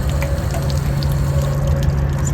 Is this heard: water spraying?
yes